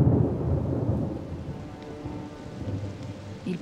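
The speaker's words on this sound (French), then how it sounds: "Il pleut sur un lac tout ébrouillé," Rain falls steadily on a lake while thunder rolls low and heavy underneath, a constant dense wash with no voices.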